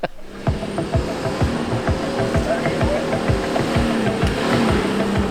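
A Toyota Land Cruiser 79 engine labours steadily up a slippery high-country track, its low rumble constant and close with rhythmic surges.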